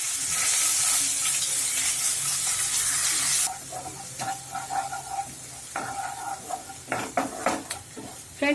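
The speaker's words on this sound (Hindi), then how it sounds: "हरी मिर्ची, अदरक और लहसुन का पेस्ट बना लिया है, 2 चम्मच, वो डाल देते हैं और थोड़ा सा भून लेंगे हम।" Green chili, ginger and garlic paste hits hot oil with a loud, dense sizzle, then settles into quieter frying as a spoon stirs and scrapes the pan in irregular clinks, close by, with no talking.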